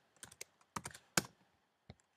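A few quiet, sparse key presses on a Mac computer keyboard, crisp clicks in small clusters with near silence between them.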